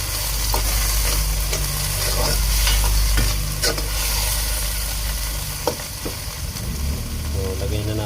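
Tomatoes sautéing in a pan for sinigang, a loud continuous sizzle with repeated scraping stirs and clatter up close, no speech.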